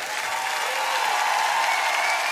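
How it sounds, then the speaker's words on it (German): Sustained audience applause at the finale of The Masked Singer, a dense, steady wash of clapping from a large crowd that stays loud and even throughout without pause. "Nimm mit deinen Applaus!"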